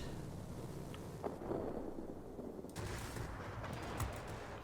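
Aircraft cannon fire in World of Warplanes from the Tu-1 plane: a few short bursts of gunfire over steady engine and wind noise, with no talking.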